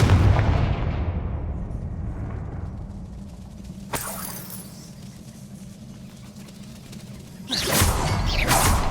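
In the Hogwarts Legacy video game, a Confringo fire spell lets out a booming blast that fades into a rumble, followed by a sharp crack and then a second whooshing burst of energy.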